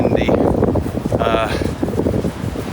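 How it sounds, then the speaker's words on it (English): Strong wind gusting across an open hillside field, a steady loud roar buffeting the microphone throughout, with a person talking over it. "it's so windy."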